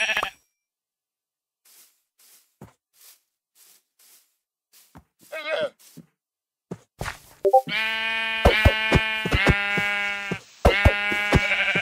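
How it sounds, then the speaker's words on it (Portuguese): A sheep in Minecraft bleats several times in a row, loud and close, after a quiet stretch of faint clicks and small game sounds. "Vou levar mais uma ovelha também."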